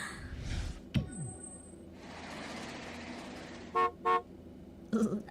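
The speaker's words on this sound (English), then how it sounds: "that honking noise was very strange." A car horn gives two short honks, then a quick burst of a few more, on a city street in San Francisco, with passing traffic and other street noise around it.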